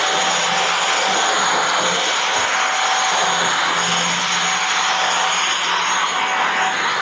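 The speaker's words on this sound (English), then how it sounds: "I can just plug my vacuum cleaner in here, hit the little power button there" A cordless vacuum cleaner plugged into a Cybpulte C601 600W portable power station runs steadily and loudly throughout, a continuous whirring motor drone with a high whine and no voices.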